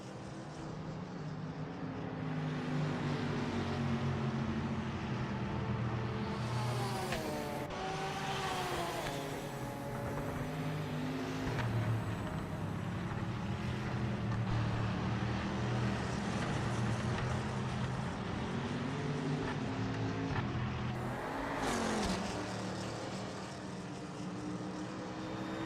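Race car engine from the sim racing game Project Motor Racing, with a sustained engine note rising and falling through gear changes and revs across the whole stretch, fairly quiet overall.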